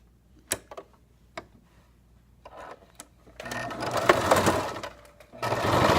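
A sewing machine stitching straight lines, starting with a few isolated clicks and taps before breaking into a steady, close whirring run of stitches that pauses briefly and resumes.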